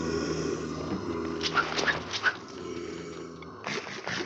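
Creatures growl in a Minecraft game with the Create mod, a low rough snarling sound with a few sharper yelps in the middle, heard close and alone over a steady game background.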